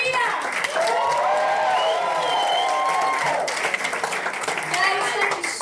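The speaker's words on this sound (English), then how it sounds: "Brilliant, give them a cheer!" A comedy club audience at a live stand-up show cheers and applauds, a dense sustained wash of clapping and whoops mixed with voices shouting over the crowd noise.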